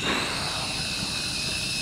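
A steady high-pitched whine of a 998 V2 quadcopter drone's propellers buzzes continuously as it takes off and hovers, close by and fairly constant.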